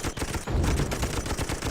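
Rapid machine gun fire in the Toy Soldiers video game, a dense stream of overlapping shots rattling steadily at close range with no talk over it.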